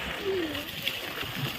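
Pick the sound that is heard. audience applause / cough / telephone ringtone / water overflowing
water overflowing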